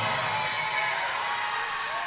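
A wrestling crowd roars and cheers for wrestler Billy Litt, a broad continuous wash of voices and applause heard from a distance, steady and moderately loud, with a commentator's voice faintly mixed in.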